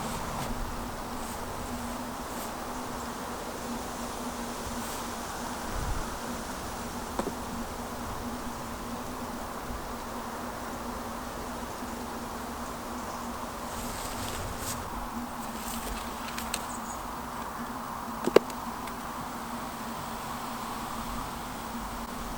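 Honeybees hum steadily around beehives that are being lifted to judge their weight, a constant mid-level drone with a few faint knocks and rustles near the end.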